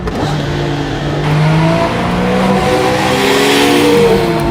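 Singer DLS reimagined Porsche 911 engine revving loudly through downshifts, heard in-car: a continuous close roar with the pitch dropping and rising as gears change and the throttle blips.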